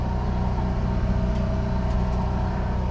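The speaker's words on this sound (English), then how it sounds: "You have your generator running." The generator on a 2016 Thor Motor Coach ACE 29.2 motorhome runs with a steady, loud low-pitched hum and drone, constant from start to finish with no voices.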